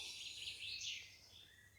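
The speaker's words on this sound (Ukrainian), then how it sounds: "Пташки співають." Birds sing in a quiet forest, a faint, continuous thread of high chirps and tweets that sounds distant and soft.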